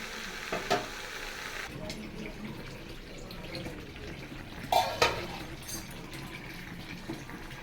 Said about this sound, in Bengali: এখানে কিন্তু তোমাদের একটু ধরে ধরে কষাতে হবে